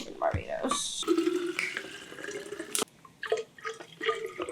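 Water is poured in a hotel room in Barbados, with short trickling and splashing bursts mixed with clinks, heard close and fairly quiet amid a person talking.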